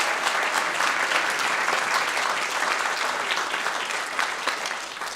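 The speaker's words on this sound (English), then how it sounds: "Let's give the Water Resource Division a round of applause." An audience at a Santa Ana city council meeting gives a long round of applause, dense and even clapping from many people that holds steady and tapers slightly at the end.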